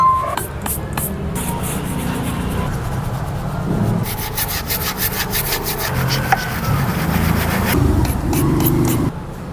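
A Yamaha Fino scooter brake is scrubbed clean with close, steady rubbing strokes. Rough scraping passes rise and fall in a back-and-forth rhythm.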